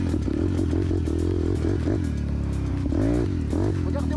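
A Varetti VR 150cc motorcycle engine running, a close, loud putter with rising and falling revs and mechanical clatter, the pitch sweeping up and down.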